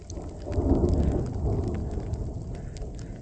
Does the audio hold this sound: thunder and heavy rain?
yes